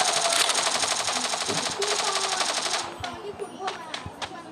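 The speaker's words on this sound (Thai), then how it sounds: "เสียงปืนหน้าเราครับ" Rapid automatic gunfire bursts loudly for a few seconds, then gives way to scattered single shots and sharp clicks, with game-like effects.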